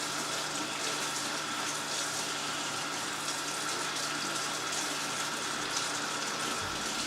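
Kitchen tap water running steadily while peppers are rinsed for sofrito, a constant faint hiss and splash with no voices.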